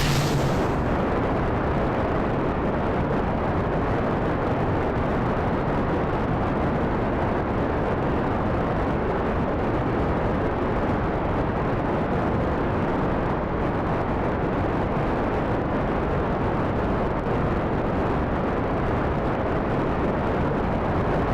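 Rocket engines firing at full power in the Kerbal Space Program video game, a loud, steady, dense roar that holds unbroken throughout, with no talking.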